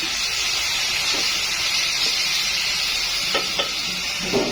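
Ground pork or beef sizzles in a hot pan with garlic while cooking sautéed chayote, a steady bright frying hiss with a few small pops and stirring clicks, no talking.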